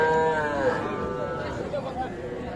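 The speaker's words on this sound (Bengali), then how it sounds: "ষাঁড় বাচ্চা" A young bull calf moos, a drawn-out low bellow that bends in pitch, close by, at a cattle market in Dinajpur, with crowd chatter and voices faintly behind.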